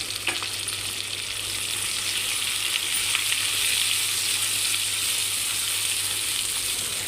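Bitter gourd fries in a pan with turmeric and salt, giving a steady, bright sizzle that holds evenly from start to finish with no talking over it.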